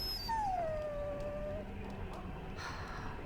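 A dog in Dragon Age Origins gives a single drawn-out, high whimpering whine that slides downward and fades after about a second, up close over a low background hum.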